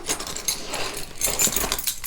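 A keychain handled up close, its keys and metal rings jingling and clinking in a steady run of small bright taps with no voices.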